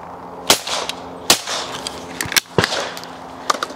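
.410 shotgun fired at clay targets outdoors, several sharp cracking reports spaced out a second or so apart, close and loud against background noise.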